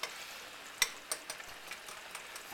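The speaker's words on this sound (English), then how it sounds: "we'll start stirring that thing up here" Chili being stirred in a pot, giving a steady soft frying hiss broken by a few light scraping and clinking knocks, one sharper clack near the start, heard close with no talking.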